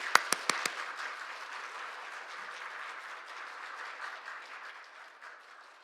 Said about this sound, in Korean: 우리 목사님 등단하실 때 우리 큰 박수로 우리 목사님 환영하겠습니다.